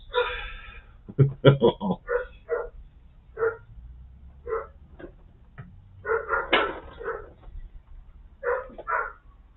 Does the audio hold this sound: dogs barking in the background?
yes